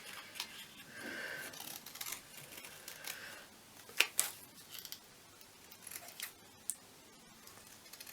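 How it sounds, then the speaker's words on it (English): Crisp snipping of scissors through paper, a series of short close cuts with irregular pauses between them. "when you're cutting rounds, just move your paper, not your scissors."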